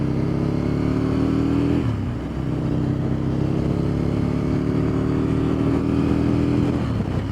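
An Aprilia motorcycle rides a test route with a steady, loud engine drone, close by, shifting pitch once around a gear change and easing slightly near the end. No one speaks.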